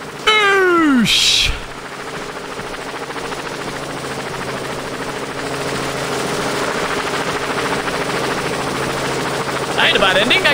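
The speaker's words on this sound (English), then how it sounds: "I get helicopter." Helicopter in the video game 15th Floor: a steady rotor drone holds through the clip, with voices, a rising whistle sweep at the start and a short loud burst near the beginning.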